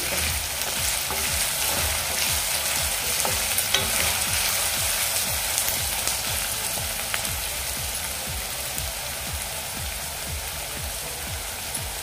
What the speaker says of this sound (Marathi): थोडासा आपला कांदा परतून झाला की यामध्ये मी मिरच्या घालून घेते।